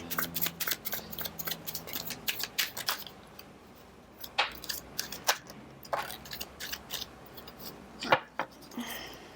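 Rapid papery riffling and soft snapping of tarot cards being shuffled, in irregular bursts close by with brief pauses between.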